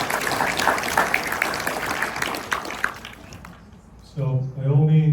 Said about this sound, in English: another round of applause for Susan